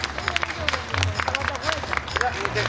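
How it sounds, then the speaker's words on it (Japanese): Audience clapping at a slackline trick performance, scattered short claps over crowd murmur, with a nearby voice speaking briefly. "まあ、拍手お願いします。"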